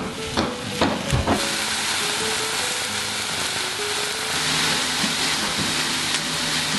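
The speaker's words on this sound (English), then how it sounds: "I'm gonna fry them." Food frying in a pan over high heat gives a steady, close sizzle throughout, with a few sharp clatters of utensils near the start and no talk.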